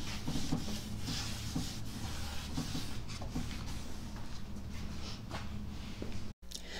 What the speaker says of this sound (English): We're using the orbital sander to even out some of the distressing that is on this wood so that it will have more of a modern look